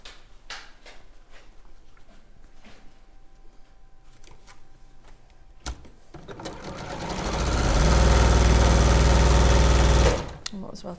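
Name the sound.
sewing machine chain piecing fabric squares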